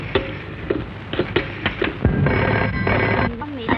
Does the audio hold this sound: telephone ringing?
yes